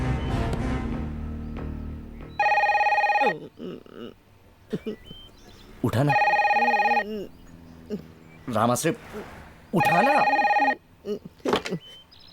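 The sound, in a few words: telephone ringing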